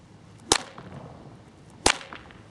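A whip is swung around a horse during gun breaking, giving two sharp, loud snaps about a second and a half apart against quiet surroundings.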